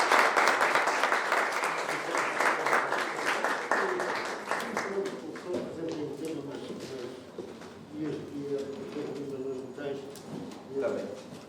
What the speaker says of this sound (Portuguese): E já agora uma salva de palmas.